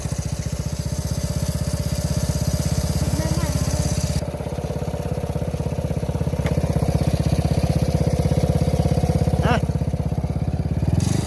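A motorcycle engine is left running on a long-distance test ride, a steady close idle with a constant low rhythmic throb and slight shifts in tone, loud throughout with no pauses.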